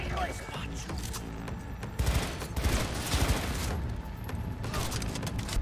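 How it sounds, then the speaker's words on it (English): Burst-fire gunshots from a gun in the video game Cyberpunk 2077, loud clustered bursts of shots amid dense game noise and effects, with a voice talking throughout. "This gun looks kind of dope. Oh, it's a burst."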